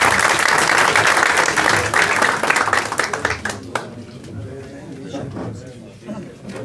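Wedding guests applaud the groom at a Turkish family celebration, a dense burst of clapping that thins and fades over several seconds, with voices talking among the guests.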